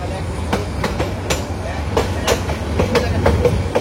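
A Titas commuter train rolls over loop line points on a curve at Amirganj, wheels clacking in a steady series of sharp beats over a continuous rumble heard from inside the carriage.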